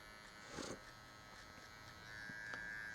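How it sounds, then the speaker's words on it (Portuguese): Electric finishing clipper used as a hair trimmer during a mid fade haircut, giving a low steady buzz with a few brief louder touches as it meets the hair. Faint and close, with no talking. "Toma cuidado com a máquina de acabamento, porque ela é uma máquina que pode marcar muito"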